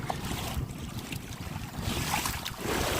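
Wind buffets a kayaker out on open water along the Intracoastal Waterway, a rough steady rush with gusty swells and water wash, close to the microphone, no talk.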